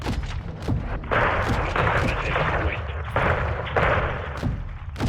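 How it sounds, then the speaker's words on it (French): Heavy 40 mm cannon fire from an AC-130 gunship in Modern Warfare 2, heard as repeated booming thumps and blasts over dense rumbling game noise, loud and close, with some voices in the mix. "TV, autorisation pour le 40 mm. Feu à volonté. 40 mm, ça part."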